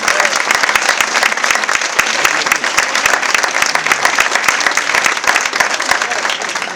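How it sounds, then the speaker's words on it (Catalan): A live audience at a music evening bursts into dense, steady clapping that holds at an even loudness throughout, with no break and no other sound above it. "Un aplaudiment per a Emilio i per a Pedro."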